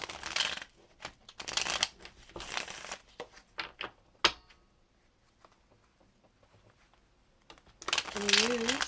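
A deck of Rider Waite tarot cards is shuffled in several quick riffling bursts at close range, crisp papery rustles separated by quiet gaps, with a voice speaking near the end.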